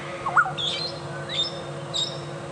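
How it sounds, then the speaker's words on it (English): A black-headed oriole gives clear liquid whistles while a brown-headed parrot adds sharp squawks and cheeps during a sunset safari drive, several separate calls rising over a low steady hum. "the black-headed oriole, that whistle, is sort of the overwhelming sound that we're hearing"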